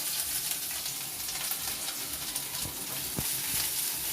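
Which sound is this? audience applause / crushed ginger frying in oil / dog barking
crushed ginger frying in oil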